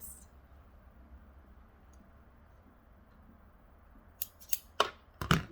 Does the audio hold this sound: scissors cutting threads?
yes